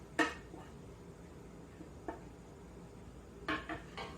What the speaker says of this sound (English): we're going to stir in the fish, as well as the spices and herbs